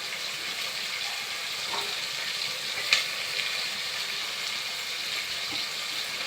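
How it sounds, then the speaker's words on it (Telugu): Curry leaves and asafoetida frying in hot oil for lapsi rava upma, giving a continuous bright sizzle with one sharp crackle midway and otherwise even, close frying with no talk. "కరివేపాకు కూడా వేసుకోవాలి. ఇంగు కూడా వేసుకోవాలి. దీన్ని బాగా వేగనివ్వాలి."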